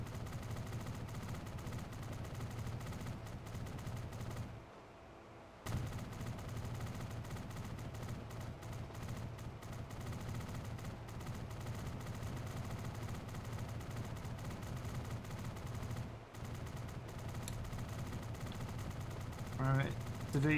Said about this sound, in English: Right, to do your LMG sound effects over the top here.